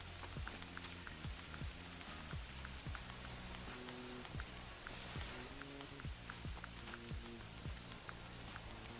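A female red deer in theHunter Classic walking closer, with a run of soft repeated hoof thuds under a steady wash of rain, its gait irregular but ongoing, and no voices.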